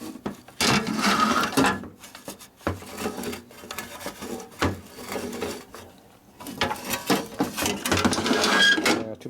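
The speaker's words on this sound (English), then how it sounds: "It does a lot of grinding noise when you turn it." A rusty Harley-Davidson WL/WLD three-speed barn-find transmission being turned by hand, giving loud, uneven bursts of metallic grinding and ratcheting close by, separated by brief pauses.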